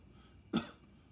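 A single short cough from an old, sick woman, abrupt and moderately loud against a quiet background, with no talking.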